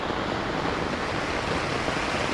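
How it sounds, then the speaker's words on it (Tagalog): Floodwater rushing in waves after a night of heavy rain, a loud continuous broadband wash of churning water close by, with no voices. "alon na tubig oh."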